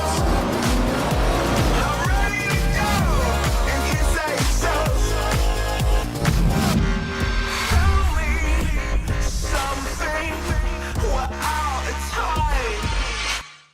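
Racing cars in the Forza Horizon video game roar continuously with engine revs, tire squeals and skids, layered under steady music for the whole stretch before fading at the end.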